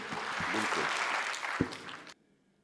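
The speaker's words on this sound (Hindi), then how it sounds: "तो एक मर्तबा ज़ोरदार तालियां बजाइए" An audience at a mushaira and hasya kavi sammelan breaks into vigorous applause, a dense burst of close clapping with a few sharper claps, lasting about two seconds before cutting off abruptly into quiet.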